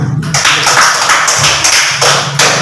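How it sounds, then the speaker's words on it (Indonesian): A classroom group claps together in a burst of applause, close and loud, with dense overlapping hand claps and a few brief pauses. "Berikan tepuk tangan dulu."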